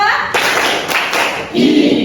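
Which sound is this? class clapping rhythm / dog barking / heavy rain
class clapping rhythm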